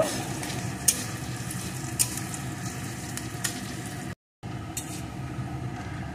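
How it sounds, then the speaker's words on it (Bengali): Chopped onion fries with nigella seeds in hot oil in a pan, sizzling steadily while a spatula knocks and scrapes against the pan in a few sharp clicks, with one brief dropout of silence. "এখন এর ভিতরে দিয়ে দেব একটা পেঁয়াজ কুচি, একটু নাড়িয়ে নেব"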